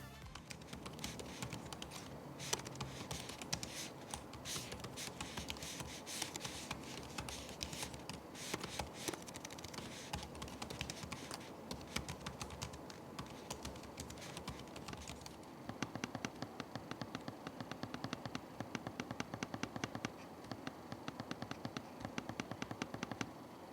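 Typing and touchpad clicks on an ASUS Vivobook S 14 OLED laptop: a quiet, dense run of rapid key taps, then sparser, sharper clicks near the end, close up with no talking.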